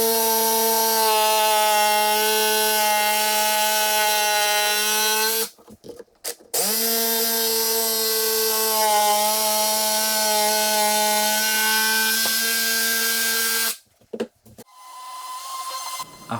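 A power saw cuts through clamped wood with a loud, sustained whine, stopping briefly twice between cuts before starting again.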